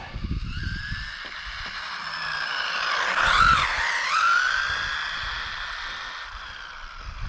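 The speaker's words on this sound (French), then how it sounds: "les pneus, ils ont encore des trucs de moquette dessus et on patine comme le sol est très froid en plein régime" An SG1608PRO RC car with carpet fibres still stuck to its tyres spins its wheels at full throttle on very cold ground, giving a steady, loud, high electric-motor whine that swells and dips in pitch, with no voices.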